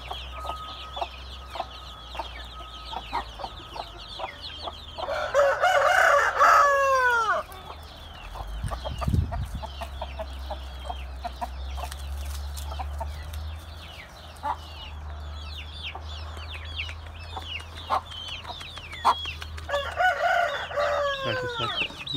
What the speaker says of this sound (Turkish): bu kırma köy tavuğu ve hin horozundan